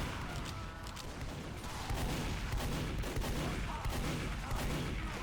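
Video game gunfire rattles in a sustained, dense barrage, a loud rumbling fusillade of overlapping shots that grows heavier partway through and keeps going to the end.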